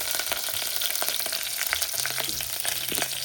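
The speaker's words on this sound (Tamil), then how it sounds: "தாளிப்புக்கு எண்ணெய் ஊற்றிட்டு கடுகு, உளுந்து, சீரகம் போட்டுக்கலாம்" Mustard seeds, urad dal and cumin tempering in hot oil, a loud, close, continuous frying crackle with scattered sharp pops from the seeds.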